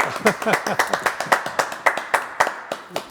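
Audience clapping for a singer on a live radio show, a sparse, steady rhythm of distinct individual handclaps close by, with voices talking over them.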